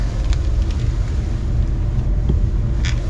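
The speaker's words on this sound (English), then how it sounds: "It's still a very loud car, even with the full exhaust." Loud car fitted with a 4-inch titanium full exhaust, heard as a steady, dense low rumble with wind-like roar throughout and no speech.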